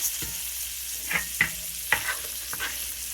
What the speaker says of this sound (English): It needs to cook about 4-6 minutes per side.